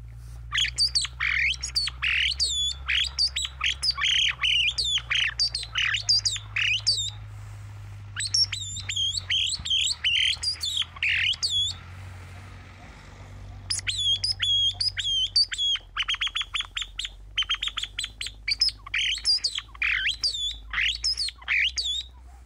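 A mouth call lure imitating a song thrush gives rapid, repeated chirping whistled phrases in bursts with short pauses, loud and close over a low steady hum.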